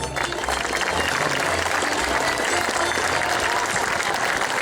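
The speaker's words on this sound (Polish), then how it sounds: "Wielkie brawo!" A crowd applauds the winning harvest wreath at a harvest festival wreath presentation, loud, dense and sustained clapping that fills the whole stretch without pause, with a faint murmur beneath it.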